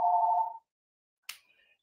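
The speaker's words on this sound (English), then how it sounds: "Jesus Christ was not expecting a phone call, so if you give me 1 minute, I'll answer that" A telephone rings during a stage performance at a college theatre: a single sustained electronic tone, a pause of silence, then a sharp click and a thinner, fainter tone trailing off.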